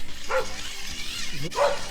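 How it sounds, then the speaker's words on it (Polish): A dog barks twice during a May walk with two dogs on one leash, short sharp barks about a second apart, fairly close, with some outdoor background. "on Staw szczeka"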